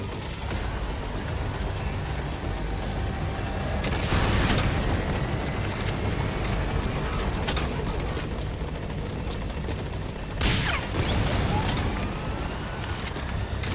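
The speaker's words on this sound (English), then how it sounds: "Support helicopter requested." In Metal Gear Solid V, a support helicopter arrives with a loud continuous rotor thrum and engine roar lasting throughout, punctuated by two sharp bursts near the middle and later.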